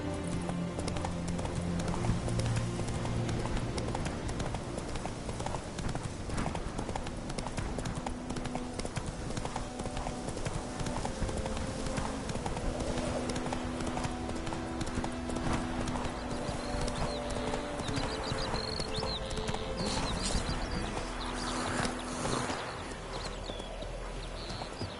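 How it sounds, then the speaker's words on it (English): In The Witcher 3, a horse's hooves clip-clop at a fast gallop throughout, loud and continuous, over a dense game soundscape with occasional snorts. "Run, Roach."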